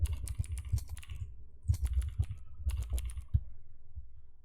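Typing on a computer keyboard while writing C++ code, bursts of quick close key clicks with short pauses between them and no talking.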